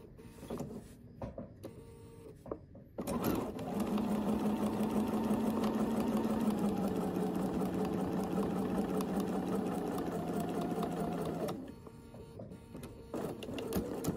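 A Bernina sewing machine fitted with the #71 foot sews binding onto a quilt, a steady mechanical hum with fast needle chatter running for about eight seconds between quieter stretches of handling noise.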